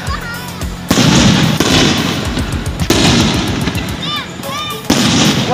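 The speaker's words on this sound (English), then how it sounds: "Yeah, there's the fireworks." Fireworks burst over downtown Comfort, Texas, in loud, repeated crackling and booming volleys that come close together, while onlookers talk and exclaim throughout.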